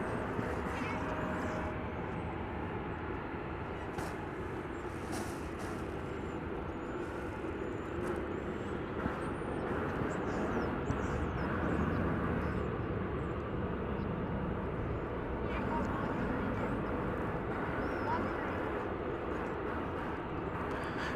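American Airlines flight 1322 departing DFW Airport produces a continuous broad jet roar heard from a distance, steady throughout with some faint background sounds.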